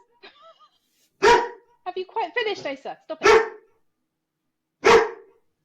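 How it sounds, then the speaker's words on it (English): A dog gives three loud, sharp barks spaced a second or two apart, with a person speaking briefly between them. "Sorry, that's my dog."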